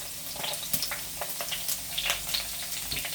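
Ginger and chopped garlic fry in hot oil for a fresh sardine curry, crackling with a close sizzle and a series of sharp pops and spits.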